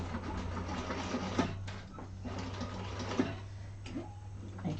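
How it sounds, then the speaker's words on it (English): Industrial sewing machine slowly stitching thick vinyl on a handbag lining, a steady close mechanical hum with a low drone and faint periodic clicks running throughout. "That's why I have an industrial machine. Take it nice and slow"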